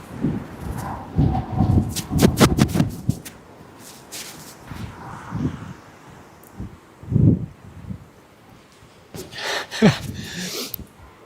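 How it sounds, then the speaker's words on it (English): Strong gusting wind at RAF Lossiemouth buffets the microphone in uneven, loud bursts and rustles, with a few breathy gasps close by. "Whoa, that wind."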